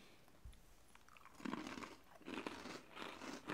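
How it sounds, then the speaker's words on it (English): Crunchy seasoned chili-flavored chips bitten and chewed up close, a run of crisp crunches building in bursts with brief pauses between bites. "Can you hear that? I mean, it is crunchy."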